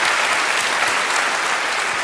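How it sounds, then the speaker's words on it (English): A theatre audience at a Derren Brown stage show on his 2010 UK Enigma tour applauds in a dense, steady clatter of many hands that holds at an even loudness throughout, with no voices standing out. "Can we get a round of applause for our lady?"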